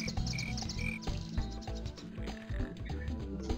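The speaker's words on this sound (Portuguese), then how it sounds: "Até o grilo tá cantando." Cricket chirping in the PS1 game 102 Dalmatians: Puppies to the Rescue, short repeated trills over busy game music and ambience, moderately loud and steady throughout.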